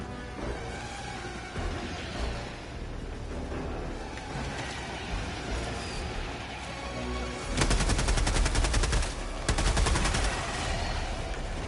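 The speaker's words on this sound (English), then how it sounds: "my Gatling guns won't do nothing" A Gatling gun in Helldivers 2 fires in a rapid, dense rattling stream for about three seconds, rising out of a constant roar of battle noise.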